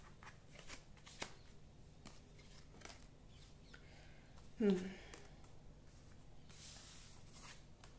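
Tarot cards being handled as one card is drawn: a faint, brief rustle and slide of cards, mostly one soft burst, over a quiet background.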